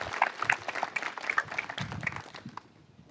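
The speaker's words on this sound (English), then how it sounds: "Mr. Long, will you please stand up and be recognized with a round of applause?" Applause from an audience at an 8th grade promotion ceremony, a short, moderately loud round of scattered clapping that fades out over a few seconds.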